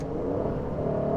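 An Aston Martin DB11 twin-turbo engine pulls hard in fourth gear from low revs, a continuous deep, rising drone heard steadily from inside the car for about a second.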